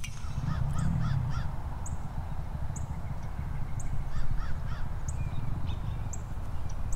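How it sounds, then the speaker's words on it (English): Crows caw repeatedly beside a golf course, harsh calls coming in short clusters with thin high chirps between them, set against steady outdoor rumble and no talking. "there was a bird flying in there"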